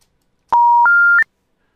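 Three loud, clean telephone DTMF keypad tones dialing *97 for voicemail on a FusionPBX phone system sound in quick succession, each one slightly higher than the last.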